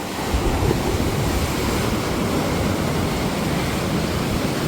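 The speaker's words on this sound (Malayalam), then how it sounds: "തിരമാലകളൊക്കെ ഉണ്ട്" Sea waves wash onto the shore in a continuous broad hiss and rumble, mixed with gusty wind buffeting the microphone.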